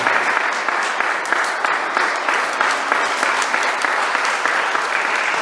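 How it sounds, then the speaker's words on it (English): A seated church congregation gives a clap offering to Jesus, loud, continuous clapping from many hands with crisp individual claps standing out in the sustained roar. "Can you give a clap offering to the Lord Jesus while you are sitting down?"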